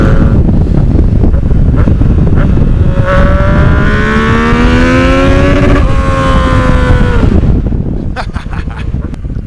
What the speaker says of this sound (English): This engine, man, this 3-cylinder's got oodles and oodles of torque.